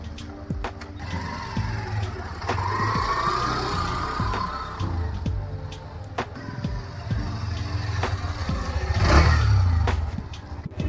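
A Hero Xtreme 125R 125cc motorcycle being ridden, its engine humming steadily with a swell in revs near the end and occasional clicks and rattles over rushing wind noise.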